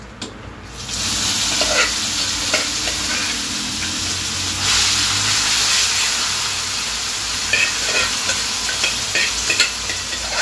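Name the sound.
tempering sizzling as it is stirred into pumpkin curry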